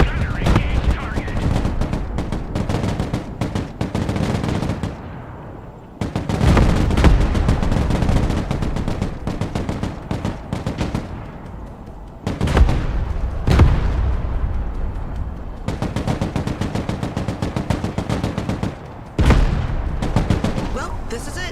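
An Abrams tank crew fires on a target in the Broken Arrow video game. Repeated loud bursts of gunfire and booming shots come in clusters separated by short lulls, with some voices in the background.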